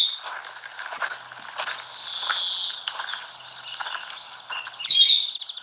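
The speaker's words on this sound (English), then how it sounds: "Yes, you can hear the birds, can you?" Birds chirp and twitter in a high, busy chorus outdoors, with a brief burst of brighter calls near the end; no one speaks.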